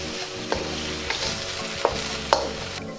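Beef stirred and coated in a hot pan for Mongolian beef, a steady sizzle with several distinct scraping stir strokes spaced through it, close and fairly loud with no talking.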